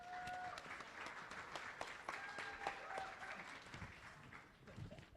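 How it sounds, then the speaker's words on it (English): A crowd applauds steadily, many hands clapping at once with a few brief whistles mixed in, loud and sustained throughout. "Miigwech Nelson, let's give him a round of applause and a warm welcome."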